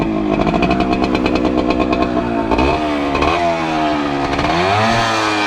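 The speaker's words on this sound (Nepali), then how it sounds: "ल अब सुनौँ भिन्टेज बाइकको" A vintage motorcycle engine runs close by, loud and steady with a throbbing idle that rises and falls as the throttle is blipped, alone without talk.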